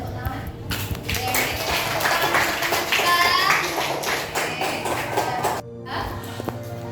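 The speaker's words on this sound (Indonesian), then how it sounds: "Tangan, tepuk tangan." A primary classroom of third-grade pupils claps their hands together in a sustained burst, with children's voices chattering underneath before the clapping thins out near the end.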